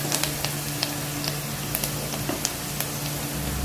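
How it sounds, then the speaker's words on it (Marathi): Onions sautéing in a pan on medium gas heat, a soft continuous sizzle with scattered light crackles and pops over a low steady background hum. "गॅस मिडियम ठेवायचा त्या ट्रान्सपरंट होईपर्यंतच परतायचा ब्राऊन नाही करायचा आपल्याला कांदा"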